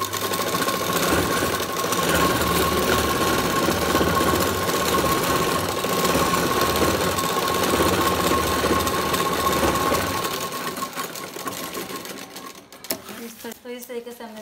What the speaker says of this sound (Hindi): तो चलिए सिलाई करते हैं।